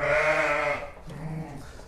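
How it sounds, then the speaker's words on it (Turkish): A Sarı Çil sheep bleats inside a barn: one long, wavering, nasal call, close and loud, followed by a shorter, lower bleat that fades out. "şöyle detaylı olarak bir de koyunları gösterelim sizlere"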